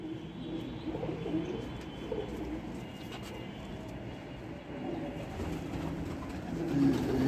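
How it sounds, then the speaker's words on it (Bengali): Pigeons at a pigeon tournament in Kolkata give soft, low cooing calls that repeat over a steady outdoor background hum. "এই একটা উদা ছাপকা মতিয়া পায়রা"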